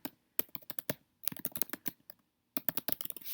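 Quick bursts of computer keyboard typing as a graph title is entered, clustered clicks in three short runs separated by brief pauses, crisp and close.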